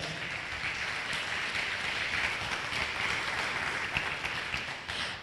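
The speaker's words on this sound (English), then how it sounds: "Give Brother Nati another round of applause." Moderate, steady applause from an audience at a talk on Black economics, a continuous wash of clapping lasting about five seconds with a slight dip near the end.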